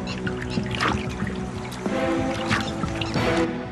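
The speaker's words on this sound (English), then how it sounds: "Bubbling and spraying make the same point." A large male mugger crocodile in a dominance display bubbles and sprays at the water surface, producing close, irregular gurgles, drips and splashy trickles that come in short bursts.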